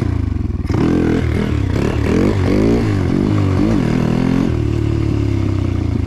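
A motorcycle engine revs hard during a wheelie, the pitch rising and falling in repeated throttle surges after an abrupt start, then settling into a steady loud idle drone, close and with no talk.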